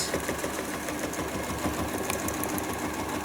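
A sewing machine stitches a bleachwork fabric piece with a steady, rapid mechanical whirr and clatter that runs unbroken throughout, close and fairly loud.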